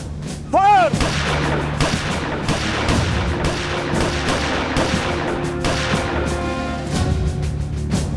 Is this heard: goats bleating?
no